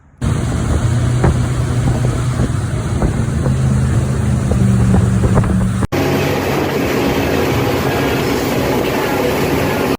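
A Malibu wake boat engine drones steadily over rushing water and wind buffeting the microphone, loud and close throughout with no talking.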